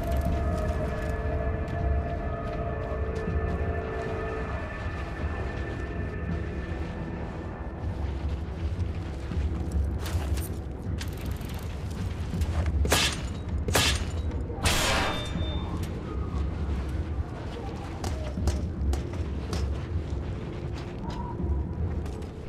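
Explosions go off in the Mad Max video game. Several heavy booms and sharp blasts cluster in the middle of a long stretch, over steady low rumbling ambience and a faint tonal hum.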